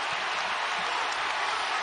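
A basketball crowd at a UConn versus Providence college game cheers and applauds after a slam dunk, a dense, loud, continuous roar of many voices and clapping.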